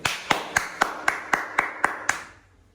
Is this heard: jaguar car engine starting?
no